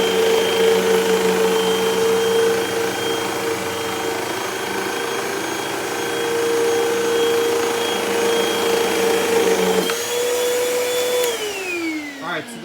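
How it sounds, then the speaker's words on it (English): A Hoover Total Home Pet vacuum cleaner runs loud and steady close by, its motor whine holding an even pitch before shifting and winding down near the end. "now the Hoover"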